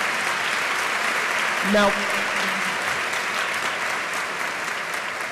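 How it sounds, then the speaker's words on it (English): A lecture audience at an evening evolution talk applauds its co-sponsors with dense, even, sustained clapping throughout, while a single spoken word briefly cuts in near the start. "Could we have a round of applause for our many co-sponsors?"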